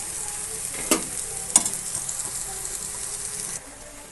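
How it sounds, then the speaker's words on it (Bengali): Slices of eggplant coated in poppy seeds fry in hot oil with a steady crackling sizzle, broken by a couple of sharp scrapes and clatters as each piece is flipped in the pan. "আমি একে একটা একটা করে একটু উল্টে নিচ্ছি"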